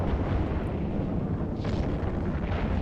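Spaceship guns fire during a space battle in EVE Online, a dense, continuous roar of loud rumbling blasts with no pauses and no talk.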